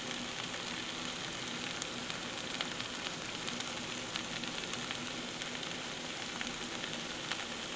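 Four eggs fry in a pan over low heat, giving a constant, even sizzle with faint crackles and no talking.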